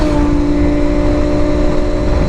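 A Honda CBR sport motorcycle with a high-revving small engine holds a loud, steady, high-pitched engine whine close by, sustained without a clear rise or fall and with no voices.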